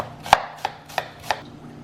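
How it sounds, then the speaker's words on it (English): A knife cuts an onion into thin slices on a board: four crisp, evenly spaced chops, close and clear with nothing else underneath. "Got an onion here. We want that in thin slices."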